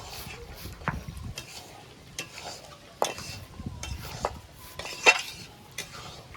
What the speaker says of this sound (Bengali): ভালো করে নেড়ে চেড়ে চিনিটাকে মিশিয়ে নেব।